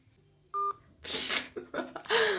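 Telephone keypad dialing tones, a short pair of steady beeps near the start, followed by louder indoor talk and rustling noise.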